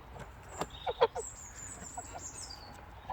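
A young farm-hatched, hand-raised chicken gives a few short, close clucking calls in quick succession, with quieter chirps scattered after them against a soft background.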